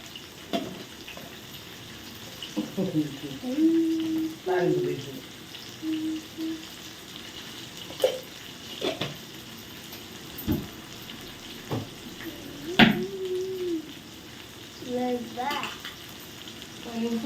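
Sliced cluster beans frying in a pan send sharp, scattered pops and spits over a steady low hiss, with faint tonal voice-like sounds drifting in now and then.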